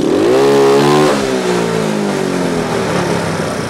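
Car engine with a power pipe exhaust revved to around 5000 RPM: a loud, close rising whine that holds high, then drops and settles into a steady drone, with no talking.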